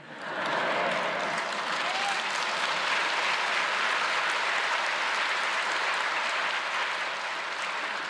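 A large church congregation applauds with sustained, even clapping that fills the whole stretch and tapers slightly at the end.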